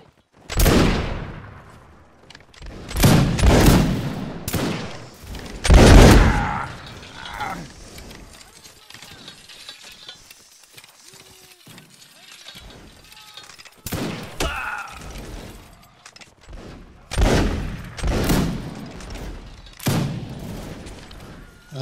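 Ragged volleys of musket fire crack out at a reenactment line battle, several loud massed bursts spaced apart with shouted commands and talk between them.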